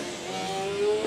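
A Formula Student race car on an endurance lap drives past with a steady, tonal engine whine that rises slightly in pitch and loudness as it nears.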